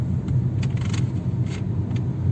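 Kia Rio engine running smoothly while driving, heard from inside the car as a steady low hum and road rumble with a few light rattles and scrapes, no talking.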